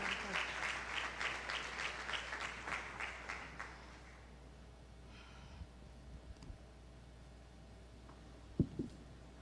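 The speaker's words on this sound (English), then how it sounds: "Let's give her a round of applause." An audience at a graduation ceremony claps in a dense burst of applause that fades out after a few seconds, leaving a quiet hall with a few scattered soft sounds.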